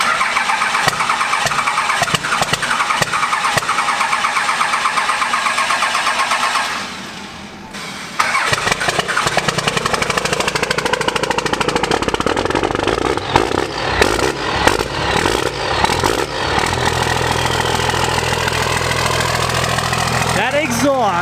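A Cummins diesel truck cranks and fires up on a windy day, then settles into a loud, rough idle with booming exhaust and occasional revs, recorded close.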